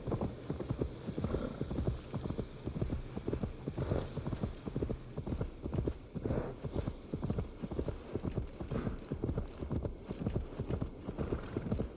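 A horse trots in Assassin's Creed Valhalla, its hooves beating a quick, steady rhythm that carries on throughout, close and clear, with a low game hum behind it.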